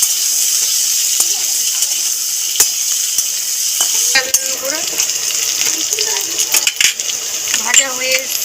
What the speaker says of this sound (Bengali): নুন দিয়ে আলুটাকে ভাজতে থাকবো।